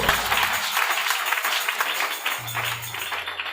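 A church congregation applauds for Jesus during a worship service, dense steady clapping throughout, with a low musical tone joining near the end.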